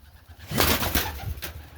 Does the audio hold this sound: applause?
no